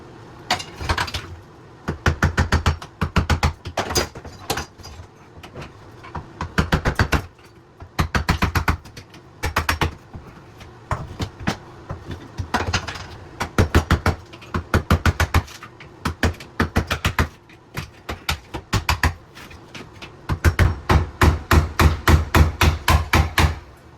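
A screwdriver used as a chisel is struck repeatedly with a hammer to chip old caulk away during a bathroom remodel. Loud, close, sharp metallic blows come in rapid bursts separated by brief pauses.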